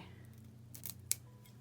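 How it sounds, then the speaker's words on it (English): Paper being pulled free of a metal cutting die after die-cutting a gel medium leaf card, heard as a couple of short crisp rustling scrapes and a sharp snap over a low steady hum. "So I'm just going to pull the paper out and then take my"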